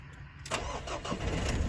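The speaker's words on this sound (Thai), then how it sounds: "สตาร์ติดแล้วนะครับวิ่งเดียว นี่นะครับ เครื่องยนต์เดินเรียบนะครับ" A 2.2-litre Mazda BT-50 Pro pickup, a 2013 model with about 304,000 km on it, cranks briefly and catches, then settles into a steady, smooth idle heard close up with no talk.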